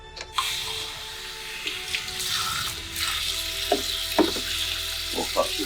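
Water from a tap runs and splashes into a bowl for pickling onions, a steady hissing stream with a few clinks and knocks of kitchen handling.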